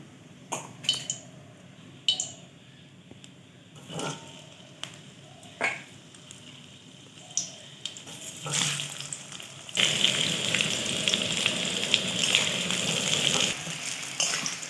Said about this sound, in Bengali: এবার এগুলো কড়াইয়ে ভেজে নেব